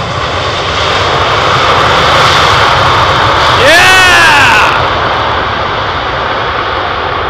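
Heavy jet airliner landing at Heathrow, its engines roaring loud and close with thrust reversers deployed, the broad roar swelling to a peak midway with a rising whine before easing off, under a steady wash of background noise.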